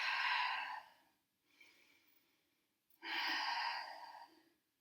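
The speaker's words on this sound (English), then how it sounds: "belly breaths" Deep belly breathing in a yoga flow: a strong, breathy inhale, a softer middle breath, then another full exhale, close and rhythmic with short gaps between, no talking.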